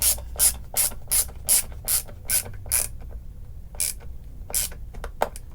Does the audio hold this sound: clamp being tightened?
yes